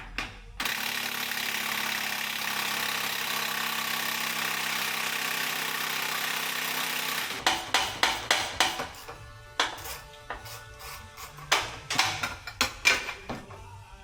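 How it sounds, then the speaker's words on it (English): Impact wrench hammering at rusted body mount bolts on an old Ford truck during a frame-off restoration, a long continuous rattling burst followed by several short stuttering bursts with pauses. "I got the ratchet on one end, and I'm gonna try to hit it with the impact on the bottom"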